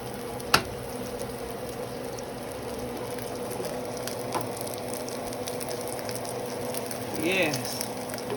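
A crab cake fries in oil with extra oil added around the edges, producing a low, steady sizzle beneath faint background noise, with a sharp click near the start.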